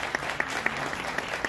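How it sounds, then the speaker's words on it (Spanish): A brief burst of audience applause at a televised Mexican celebration, moderately loud scattered claps with a few sharper hand strikes standing out, lasting under two seconds with no talk over it. "Un gran aplauso para mi querida Carmen Salinas."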